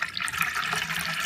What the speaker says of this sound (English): So now I'm going to add 200 milliliters of cold water.